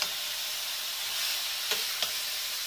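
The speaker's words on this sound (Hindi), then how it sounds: "हमारे घी अच्छे तरीके से गरम हो गया, अब इसमें हम कद्दू कस किया हुआ गाजर डालेंगे।" Grated carrots fry in hot ghee with a soft, steady sizzle and hiss, joined by a couple of light stirring taps near the end.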